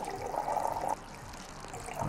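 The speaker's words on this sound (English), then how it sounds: "Now the liquids pour out super duper quick" Liquid pouring fast in the Cooking Simulator video game, a splashy gushing stream that runs for about a second and then drops to a softer trickle before swelling again, with no talking.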